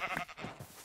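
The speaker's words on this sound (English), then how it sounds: "Sheep right there." A single short sheep bleat from a Minecraft-style video game, quiet and close, with a wavering nasal tone lasting under a second.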